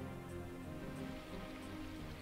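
Steady rain falls in the visual novel game Symphonic Rain, an even, continuous hiss with a soft low rumble beneath, moderately quiet and unbroken, with no voices.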